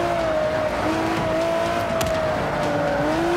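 Cars drift through corners in the racing video game Forza Motorsport 5: a steady, loud engine drone with shifting pitch and a light tire squeal runs throughout, with no talk.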